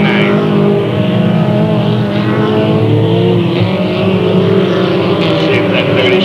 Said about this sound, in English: Like that seven truck's going fast again tonight.